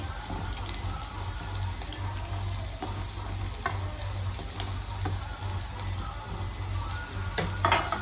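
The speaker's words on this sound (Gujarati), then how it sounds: "ડુંગળીને થોડીક બ્રાઉન થવા દઈશું." Onion, garlic and chillies fry in a pan with a steady close sizzle, broken by occasional scrapes and stirring taps, over a constant low hum.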